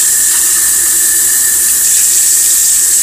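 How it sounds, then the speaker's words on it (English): Tap water runs steadily from an indoor faucet, a loud, continuous hiss with no break or change through the whole stretch. "So here is tap water here."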